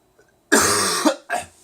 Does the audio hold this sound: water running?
no